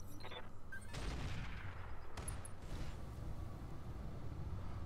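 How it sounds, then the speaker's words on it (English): Artillery fire striking units in the video game Roguetech, a series of distant booms and rumbling impacts, fairly quiet and muffled, with no speech. "somebody's got some sniper artillery and hit their own guys"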